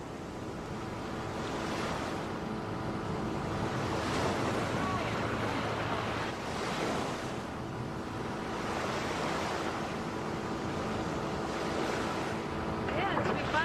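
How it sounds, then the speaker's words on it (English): Ocean waves wash continuously against a small island shore in the British Virgin Islands, a broad steady surf roar with gusting wind noise on the microphone and no voices. "You have to watch the waves."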